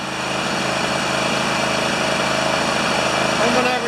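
A John Deere LX178 lawn tractor engine with a Mikuni carburetor and a suspected float issue runs steadily at a loud, close, even drone without letting up, with a person talking over it.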